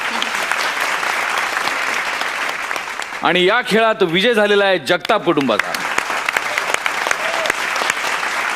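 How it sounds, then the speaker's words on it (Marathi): Loud, sustained applause from a crowd at a family household game show, with someone talking over it through the middle of the clapping. "जोरदार टाळ्या"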